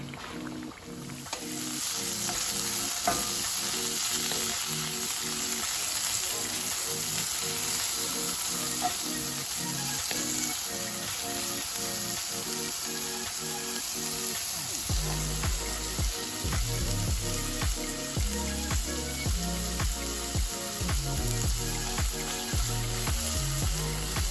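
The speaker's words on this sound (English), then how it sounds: "while the fries are cooking, we'll go ahead and get our Philly cheesesteak going" Fries cooking in a skillet for a Philly cheesesteak meal, a steady loud sizzle and crackle of frying oil filling the whole stretch up close, with no voice over it.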